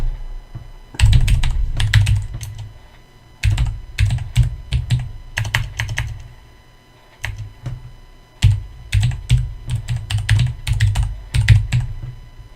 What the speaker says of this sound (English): I'm going to type 130 just for the sake of this video